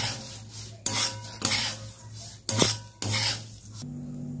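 Semolina halwa is stirred in a pan, heard as repeated scraping strokes of a utensil against metal, each burst separated by brief pauses, close and moderately loud, with faint sizzling underneath and no voices.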